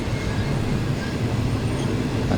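Thai rapid train no. 141 from Bangkok to Ubon Ratchathani rolls along near Lam Plai Mat, a steady loud rumble of wheels and carriage noise heard from on board with no break.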